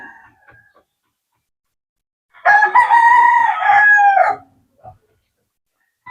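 A gamecock broodcock in a backyard crows once, close and loud, in a single drawn-out call of about two seconds, with faint background sounds before and after.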